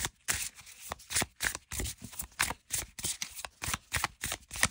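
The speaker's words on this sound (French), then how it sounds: "On mélange les cartes, elles se mélangent très très bien." Oracle cards are shuffled by hand in a steady rhythm of crisp, papery riffles and slaps, close and clear, with no talking over them.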